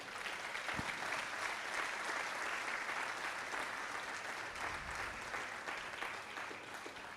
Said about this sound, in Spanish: ¿No le dan un aplauso al Señor por eso?